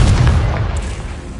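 Confringo blasting spell explosion in Hogwarts Legacy: a single deep, loud boom that hits at once and rolls on as a heavy low rumble for the whole short moment.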